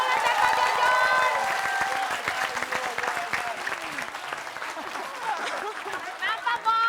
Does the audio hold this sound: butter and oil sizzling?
no